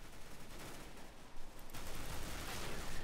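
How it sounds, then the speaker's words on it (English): Loud gunfire in Counter-Strike: Global Offensive Arms Race, continuous dense volleys of shots that swell louder partway through, with no talking over it. "And three people just shoot at me"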